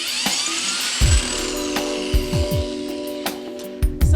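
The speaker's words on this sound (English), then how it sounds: "So I have my trusted drill here" Cordless power drill unscrewing legs from a piece of furniture for reupholstering, a steady whine with repeated short bursts and thuds as the screws back out.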